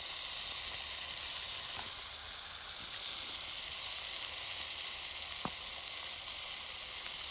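Food sizzles and fries steadily in a wok at an outdoor camp cooking setup, a continuous close hiss with no talking.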